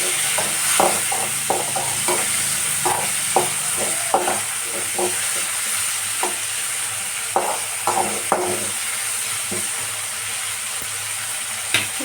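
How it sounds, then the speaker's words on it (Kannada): Onions frying in a pan with tomato added, a steady close sizzle broken by repeated scraping stirs of a spoon against the pan, no voices. "ಈಗ ನೋಡ್ರಿ ಉಳ್ಳಾಗಡ್ಡಿ ಎಲ್ಲ ಫ್ರೈ ಆಗ್ಯಾವ"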